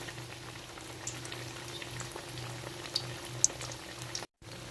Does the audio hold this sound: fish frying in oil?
yes